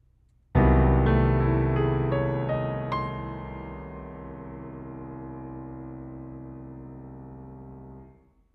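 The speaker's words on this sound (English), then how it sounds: "That sound on top of a piano chord sounds like this." Piano sounds a low chord, and a major 7 sharp 11 sharp 9 upper structure built from the major 6 is added on top as several quick high notes. The whole chord then rings out and fades over about eight seconds, solo and close.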